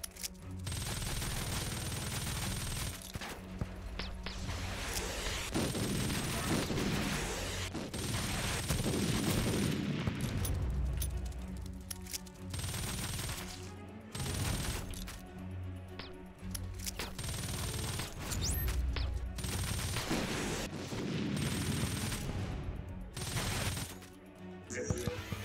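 Sustained Gatling gun fire in the video game WarSphere, a dense continuous rattle of rapid shots with heavy booms mixed in, loud and unbroken across the whole stretch, with a voice talking over parts of it.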